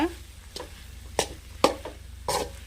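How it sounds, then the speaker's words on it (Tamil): Rice being stirred into a brinjal masala in a pan over a low flame for vangi bath, with a few distinct scraping strokes over a faint steady sizzle, close and fairly quiet. "இப்போ இது கூடவே தேவையான அளவு ரைஸ் ஆட் பண்ணிக்கலாம். நல்லா மிக்ஸ் பண்ணிடலாம்."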